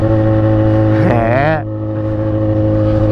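A Yamaha XJ6 motorcycle engine runs with a loud, steady drone close by, and a brief wavering rise and fall in pitch partway through.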